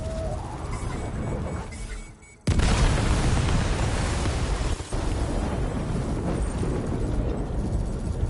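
Weapons fire and a huge explosion in Death Stranding 2: after a quieter stretch, a sudden massive blast erupts into a loud, sustained roaring rumble, with a second sharp thump partway through.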